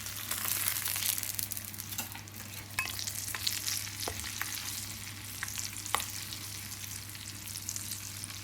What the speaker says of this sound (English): Pour in a cup of boiling oil with caution, as it exudes a delightful burst of heat.